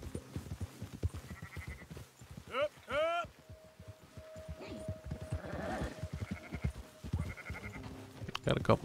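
Sheep in the video game Red Dead Redemption 2 let out a couple of wavering bleats among clip-clopping hooves, while people talk over much of the scene.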